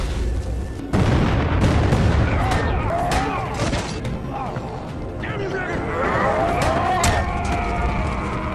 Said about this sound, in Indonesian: para penjaga terganggu oleh ledakan di luar camp